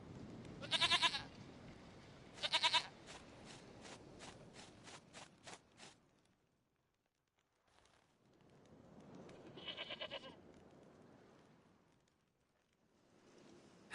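A goat in the video game Witcher 3 bleats several times, with quavering, repeated calls early on and another bleat later, fairly faint over quiet game ambience.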